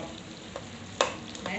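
Tomatoes mashed and fried in a pan for chicken karahi, a steady low sizzle with one sharp spoon scrape partway through.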